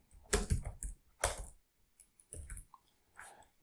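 Quick bursts of keystrokes on a computer keyboard, typed in short clustered runs with pauses between, close and fairly crisp, no talking.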